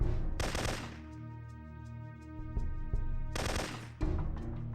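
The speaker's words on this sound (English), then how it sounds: "Okay, who's shooting at me?" Rapid automatic gunfire rattles in bursts in the PS1 shooter Syphon Filter 3, loud bursts at the start and again near the end with continuous firing between them, and no talk.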